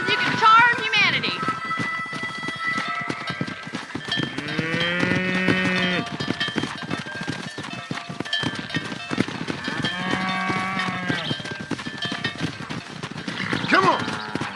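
Cows moo repeatedly while being herded down a road in Red Dead Redemption, with several long, drawn-out lowing calls, horse hooves clopping and a cowbell, while people talk over the herd.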